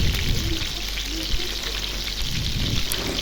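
Kural fish frying gently in a pan over low heat gives a steady, dense sizzling hiss, close and even throughout, like light rain on a surface.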